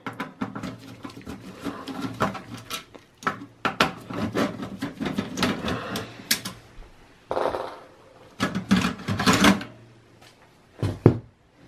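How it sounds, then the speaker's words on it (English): Screws come out of the 3.5-inch hard drive mount inside a Dell XPS 8900 desktop: close, irregular scraping, ticking and clattering of a screwdriver and small metal parts, in uneven bursts with short quiet gaps. "you're going to remove the four screws here, it's holding the hard drive."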